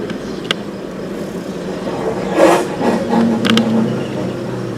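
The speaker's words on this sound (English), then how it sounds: "a rhino became agitated by the sound of an approaching ranger's truck" A ranger's truck approaching at a wildlife sanctuary, its engine rising in a mid-pitched whir and rev as it draws nearer, moderately loud over an outdoor background with a few sharp knocks.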